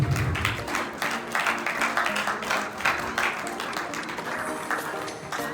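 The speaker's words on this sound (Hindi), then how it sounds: "तालियां बजाते रहिए आप लोग प्लीज" Audience clapping at an award function for a national naturopathy seminar, steady broadband applause of many hands continuing throughout at moderate volume, with a faint voice over it.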